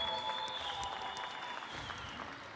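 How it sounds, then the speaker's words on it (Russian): Applause from the audience at a fight tournament: steady, fairly faint clapping for a few seconds with a faint electronic tone running beneath. "Ну и аплодисменты углу Юрия Бессмертного, Андрея Гризина, Чингиза Залазова."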